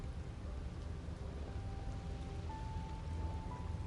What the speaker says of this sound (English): Is there a reason it would be raining?